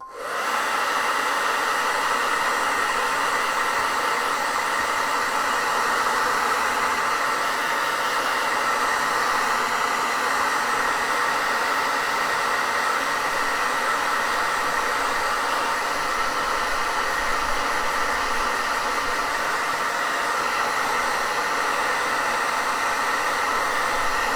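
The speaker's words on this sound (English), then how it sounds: "let's go ahead and hit that with the hairdryer" A hair dryer blows steadily at close range, a constant loud whooshing hum that never changes for the whole stretch.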